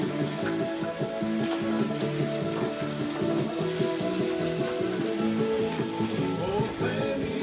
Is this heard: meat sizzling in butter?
yes